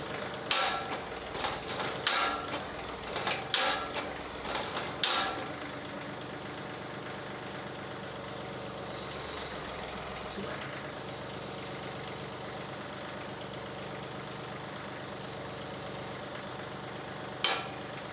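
A tractor's hydraulic grapple, fed by a HydrosPlus pump upgrade, shifts with a few mechanical clunks and knocks over a steady idling engine drone, with one more sharp knock near the end; no one speaks.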